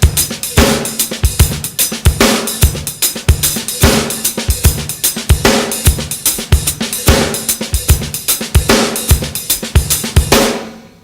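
Drum kit plays a loping groove with quarter notes on the hi-hat over shuffled kick and snare, a steady repeating pattern for about eleven seconds, loud and close with no voices.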